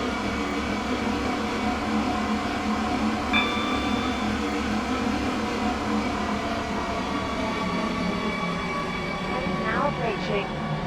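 An SCR metro R132 train in the Roblox video game runs steadily, with a continuous dense rumble of wheels and motors, faint tonal whines and a brief chime-like tone over the constant loud cabin noise.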